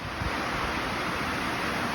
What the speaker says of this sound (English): Started pouring with rain, yes, it's pretty loud